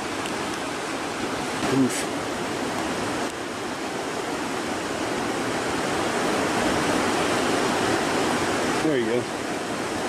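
River rapids on the John Day River at Clarno Rapids make a loud, steady rushing roar close by, with a few short voices calling out over the water.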